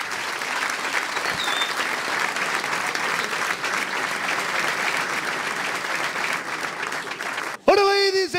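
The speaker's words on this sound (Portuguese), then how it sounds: "Um salve de palmas para eles." A dense wash of applause from a live comedy concert audience by a Portuguese comedian in 2003, loud and sustained for several seconds, cutting off sharply as a voice starts speaking at the very end.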